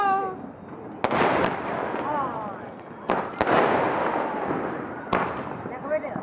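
Several sharp firecracker bangs and crackling fireworks bursts from house rooftops during Diwali celebrations, irregularly spaced, over a busy background with voices.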